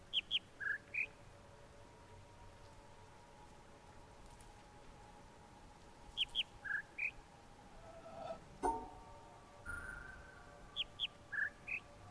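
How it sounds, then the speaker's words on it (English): Short bird chirps in a quiet video game scene, three separate clusters of quick high tweets spaced several seconds apart over a faint ambient hush, with one brief knock in between. "The bird is a part of this. I hear it."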